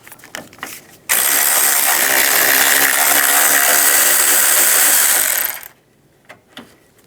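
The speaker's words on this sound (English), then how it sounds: "Using a 13mm socket, we're going to loosen up the two bolts" A power tool, likely an impact wrench or ratchet with a 13mm socket, loosens the hood latch bolts on a 2015-2020 Cadillac Escalade in one loud, steady whir lasting about four seconds, framed by quieter clicks and handling noise.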